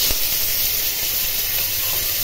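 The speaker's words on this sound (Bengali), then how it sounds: "এগুলি ভালো করে ভেজে নিলাম।" Food fries in a pan with a continuous bright hiss and sizzle, loud and close, steady throughout with no talking.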